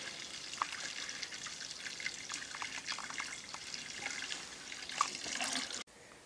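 Water pouring into a plastic beer primary fermenter holding wort during home brewing, a steady trickling, splashing stream at moderate level throughout, ending abruptly near the close.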